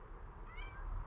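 A cat gives a single soft meow, faint and rising, over quiet background rumble.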